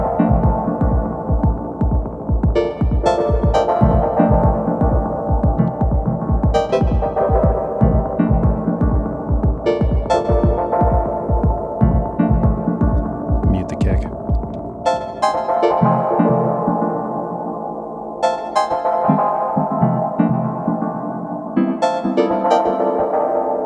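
A Hungry Robot The Wash V2 synth plays random notes alongside a Syntakt, giving loud pulsing, throbbing tones with a steady rhythmic beat and shifting pitches that keep running for about twenty seconds.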